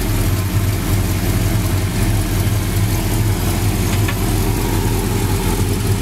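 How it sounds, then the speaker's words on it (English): The 383 V8 engine of a 1970 Dodge Super Bee idles steadily with a deep, even rumble, running on without pauses or revs, close by. "The 383 motor that's in here runs excellent."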